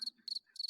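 Cricket chirps, heard as the crickets sound effect in a game-show style stream segment, three short trilling bursts with gaps between them, high-pitched and fairly quiet, with no one talking.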